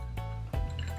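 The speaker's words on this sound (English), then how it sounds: "Can you fill up your bottle?" Water being poured into a small plastic toy doll's bottle, a soft liquid fill with two brief splashy bursts over a steady low hum, close and fairly quiet.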